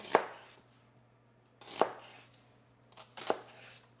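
A knife slicing through a red onion on a cutting board, three crisp separate cuts spaced about a second and a half apart, close and clear with quiet gaps between them.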